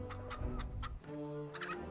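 A chicken in the Blu-ray video game Liar's Dice clucks in a few quick, close bursts that lead into a sustained, sung-like tone.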